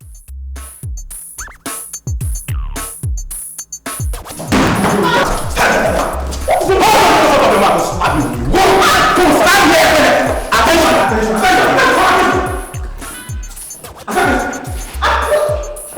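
A dog barks, yips and whimpers in a tense dramatic scene, with repeated thuds and loud, busy activity around it; people speak over the commotion.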